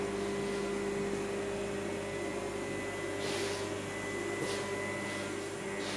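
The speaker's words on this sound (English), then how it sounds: "So now I spin the flywheel." A flywheel spinning on a balancing machine gives a steady mechanical whir with a constant hum, and brief faint hissy swells come through midway.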